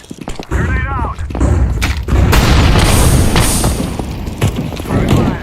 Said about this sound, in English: I'm throwing a flashback. Grenade out.